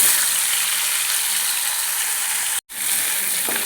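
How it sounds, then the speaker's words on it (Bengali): Prawns fry in hot oil for a pumpkin and prawn bharta, a loud continuous sizzle and crackle that cuts out briefly near the end before resuming. "তেলটা গরম হলে আমি চিংড়ি মাছটা দিয়ে দেব।"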